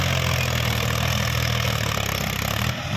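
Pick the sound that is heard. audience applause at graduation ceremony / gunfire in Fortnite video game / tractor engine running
tractor engine running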